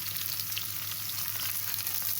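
Tomato, bell pepper and onion frying in oil in a pan, giving a brief, steady, close crackling sizzle with no pauses.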